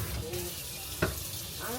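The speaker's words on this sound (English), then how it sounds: "Most of it comes off honestly by just a little bit of like the power feature on the faucet." Water sprays steadily from the power setting of a kitchen faucet sprayer while dishes are washed, a soft continuous hiss broken by a brief clatter.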